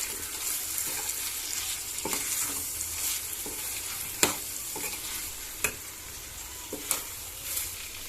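Chicken frankie filling stirred and cooked in a pan, with a steady soft sizzle and irregular sharp scrapes and clinks of a spoon against the pan across the clip.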